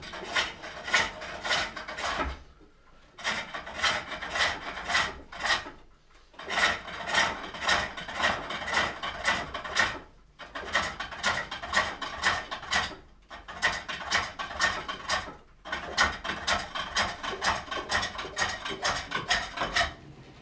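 A Swedish-style locking lidded wooden box is turned on a foot-powered pole lathe, with a tool cutting the rim in long bursts of scraping and shaving that stop briefly at intervals as the lathe reverses. The cutting sounds close and steady.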